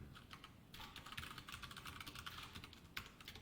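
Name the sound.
typing code on a computer keyboard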